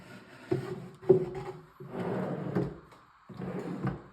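Wooden drawer being fitted into a cabinet in a woodworking shop, with a few short knocks and scraping slides as it is pushed into place, close and fairly quiet.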